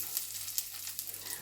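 Chopped garlic sautéing in olive oil in a pan, giving a steady, fairly faint sizzle and crackle with small pops throughout.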